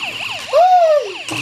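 A toy ambulance's siren wails in rising and falling electronic tones, close and loud, with a brief higher sustained note in the middle.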